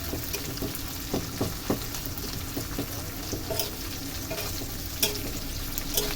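Leftover khichuri fries in a pan, made into latka khichuri without dal, giving a continuous crackling sizzle broken by repeated scraping strokes of a spoon stirring it.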